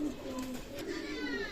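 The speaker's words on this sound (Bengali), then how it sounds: "চমৎকার টেডি কবুতর" Pakistani teddy pigeons coo at a pigeon seller's loft, with soft, steady, throaty cooing throughout and nearby voices faintly underneath.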